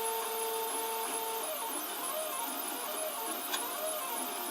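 A printer fitted with a quick-release belt-drive feeder runs steadily throughout, a close, continuous mechanical whir with faint tonal whines, a brief click near the end, and no talking.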